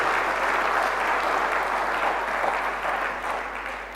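A church congregation gives a sustained, dense round of applause for Jesus, loud and even throughout before easing slightly at the end.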